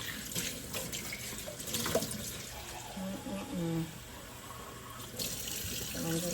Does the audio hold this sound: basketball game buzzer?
no